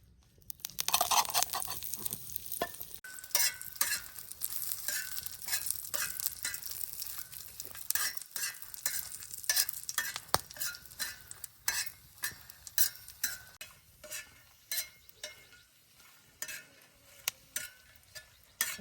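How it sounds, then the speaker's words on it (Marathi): Chilies fry in oil in a pan over a wood-fired stove, a loud hiss bursting at first, then settling into steady close sizzling with scattered crackles and spoon scrapes. "मिरच्या भुसतो तेल टाकतो"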